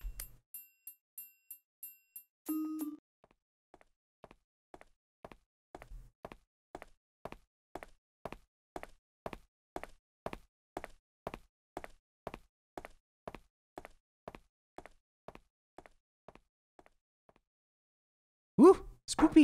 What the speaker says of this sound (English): I hear the sound of somebody knocking on the door.